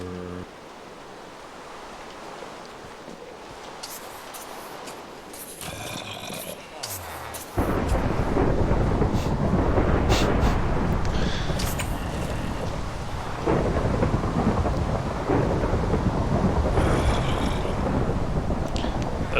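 Thunderstorm in the Minecraft GregTech New Horizons modpack: a quieter stretch of rain and rustle, then from about seven seconds a loud, sustained broadband roar of thunder and heavy storm noise rolling on without talk.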